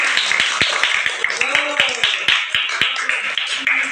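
Students clapping in an Indonesian classroom lesson on Islamic studies, a loose, uneven patter of nearby hands clapping with voices talking and calling out over it.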